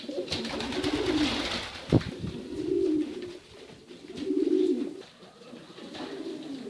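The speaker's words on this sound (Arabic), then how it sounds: "وبعد ما فقس البيض انظروا، هذه صغار الحمام، ويسمون صغار الحمام بالزغاليل." Pigeons give repeated soft, throaty coos in drawn-out phrases, fairly close by, with one sharp click breaking in between calls.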